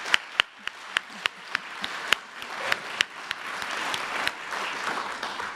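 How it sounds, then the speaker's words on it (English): Round of applause from a conference audience after four presentations at a medical talk, starting with distinct sharp claps that thicken into steady, moderately distant clapping. "can we just do one extra round of applause for all 4 of those excellent presentations?"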